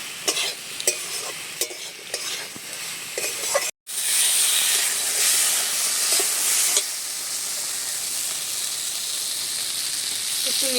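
Fish curry masala is stir-fried in a pan, with rhythmic spatula scrapes over a sizzle, a brief cut, then a louder, steadier hiss of frying.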